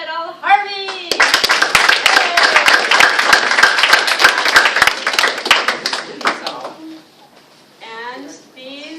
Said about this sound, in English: Let's give a big round of applause for Majed Al-Harbi.